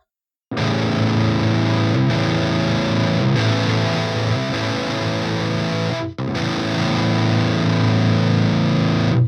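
Heavily distorted electric guitar running through a Mercuriall Euphoria amp simulator with the presence knob turned up, chugging chords played loud and close for about nine seconds, with a brief break partway through.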